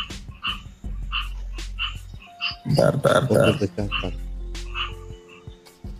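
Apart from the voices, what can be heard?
frog croaking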